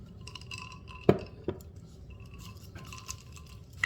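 Ice clinks against a glass of decaffeinated iced coffee as it is stirred, two sharp chinks close together followed by softer scattered taps in a quiet kitchen.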